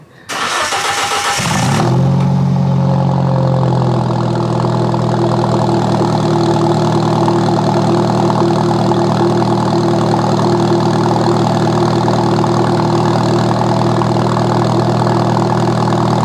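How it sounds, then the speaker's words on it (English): An Alfa Romeo 4C cold-starts with a brief loud crank and flare, then settles into a steady, close, rumbling idle with a low droning hum that holds for the rest of the time, with no talking. "here's a cold start of my Alfa Romeo 4C"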